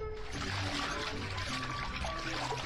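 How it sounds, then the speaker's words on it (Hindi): Water from a tap pours steadily into a bucket, a continuous splashing rush that runs the whole time with faint tonal lines and music underneath. "लाओ, मैं तुम्हारी बाल्टी भर दूं।"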